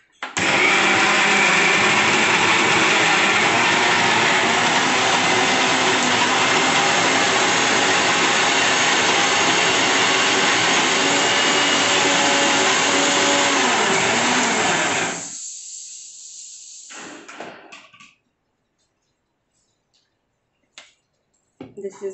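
A blender grinds peanuts into homemade peanut butter, running loud and steady for about fifteen seconds before cutting off, followed by a few faint clicks and handling noises.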